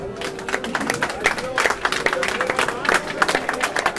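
A small group claps briefly at a handball press conference after the HC Weiden I versus Bayer Dormagen game. The clapping is sparse and uneven, close by, with voices mixed in.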